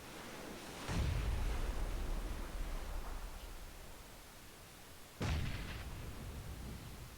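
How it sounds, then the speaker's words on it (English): Two muffled grenade blasts in the battle royale game PUBG, each a sudden low boom with a rumbling tail, about four seconds apart over a steady noisy background at moderate level. "All these dudes are gonna throw nades at each other and kill each other."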